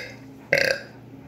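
One short, loud burp from a person in a music room, close to the microphone, rising abruptly out of quiet room tone and fading within a fraction of a second.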